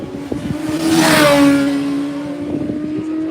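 A Suzuki GSX-R racing motorcycle sweeps past on a road racing circuit, its engine note rising to a loud peak around the middle and then sliding lower as it draws away, with engine noise carrying on underneath.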